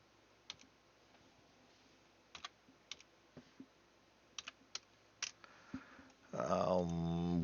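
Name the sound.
computer keyboard typing and clicking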